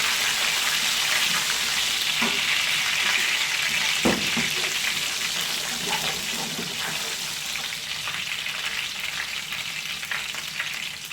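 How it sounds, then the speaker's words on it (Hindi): Fenugreek seeds and cumin frying in hot oil for a mixed vegetable dish, a steady close sizzle with a few stirring clicks and no speech. "मेथी दाना और ज़ीरा, इसको 10 से 15 सेकंड के लिए बस जो है फ्राई करेंगे।"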